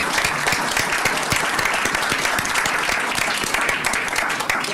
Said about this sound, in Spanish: pedir incluso un aplauso para nuestros expositores